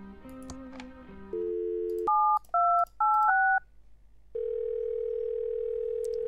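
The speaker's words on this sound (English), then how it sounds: "Hey, Freizeichen." Telephone sounds from the point-and-click adventure Thimbleweed Park: a steady dial tone, a short run of paired touch-tone beeps, then a long continuous tone, all clean and electronic with no talking.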